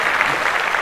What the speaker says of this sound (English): Clap that up for hip hop.